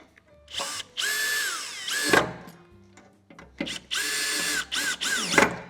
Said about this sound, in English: Now you will need a screwdriver or drill to attach these.